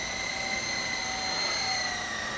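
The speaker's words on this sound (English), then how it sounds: "this is a beginner helicopter" An E-Sky Lama V4 beginner remote-control helicopter flies outdoors, its small rotors and motor giving a steady, high-pitched whine that holds level throughout, alone with no talking.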